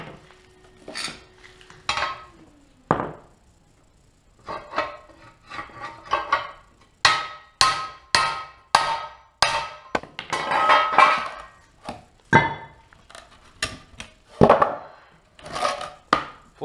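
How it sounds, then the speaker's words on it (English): Hammer striking an anvil raised on a piece of wood over an uneven floor, a series of sharp ringing metallic blows in irregular bursts, some quick repeated, each with a brief ring. "Now I can actually hit this anvil."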